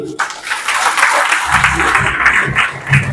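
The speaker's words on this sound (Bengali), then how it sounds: "তো চলুন নিজেদের জন্য একটা হাত তালি দিয়ে দেন ফাটিয়ে।" Audience clapping at a health and wellness awareness programme in Guwahati, a dense burst of applause filling the room from the start and holding steady throughout, with a few louder swells near the end.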